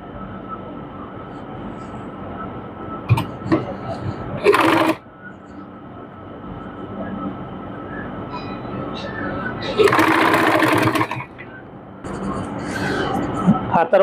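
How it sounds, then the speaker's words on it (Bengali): A sewing machine stitches a kameez sleeve in a few short bursts of rapid mechanical whirring, separated by pauses, while a person talks over and between the runs. "উপর দিয়ে একটি চাপ সেলাই দিয়ে নিব।"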